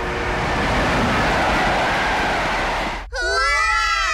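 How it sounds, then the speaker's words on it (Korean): A cartoon train roars past at close range, a loud continuous rumble that fills the clip before cutting off sharply, followed by excited high-pitched shouting. "저 열차가 지나갈 때 재빨리 뒤에 매달리는 거야"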